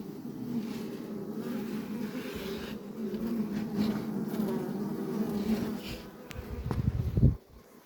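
A dense, steady hum of a honeybee colony buzzing together, continuous and close, with a louder burst near the end before it drops away.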